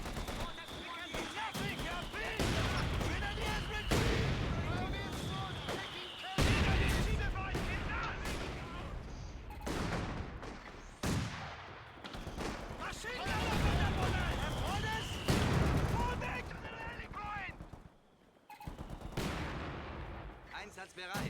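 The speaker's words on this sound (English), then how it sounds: "The enemy is firing on our HQ." Artillery shells and small-arms gunfire crash through a Company of Heroes 2 multiplayer battle, with repeated loud blasts and rattling bursts overlapping in dense waves and brief lulls, while unit voices speak over the combat.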